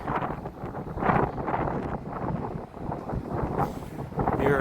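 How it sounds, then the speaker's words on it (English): Wind gusting steadily outdoors on a Toronto street at Sherbourne and Dundas, rumbling into the microphone as a constant close buffeting with brief louder surges, and a voice talking faintly underneath. "wind is blowing"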